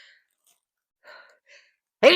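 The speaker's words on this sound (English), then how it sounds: "I'm fixing to sneeze." A single sharp, loud sneeze bursts out at the very end after a few soft breathy sounds and murmurs in an otherwise quiet room.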